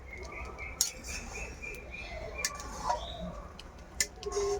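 Spices are stirred in a cooking pot with a spoon, giving sparse, faint clinks and scrapes of metal against the pot over a soft background hum.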